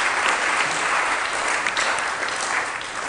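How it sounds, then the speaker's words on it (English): An audience applauding after three lectures at a public forum, heard as dense, sustained clapping from a crowd that stays loud throughout and eases slightly at the end. "let's give all 3 a good round of applause"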